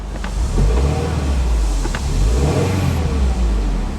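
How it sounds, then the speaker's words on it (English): Subaru WRX engine revving with the window down, a steady mid-pitched growl that swells and eases through several throttle blips, close and loud with no talking. "Let's take a look at that PSI gauge while I rev it."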